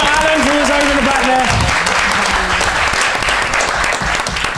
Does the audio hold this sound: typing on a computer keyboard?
no